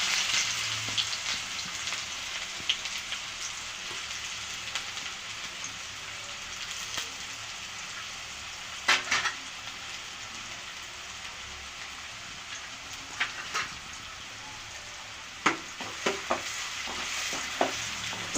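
Onions sizzle and crackle in a hot pan, with a steady frying hiss broken by occasional louder pops and stirring scrapes.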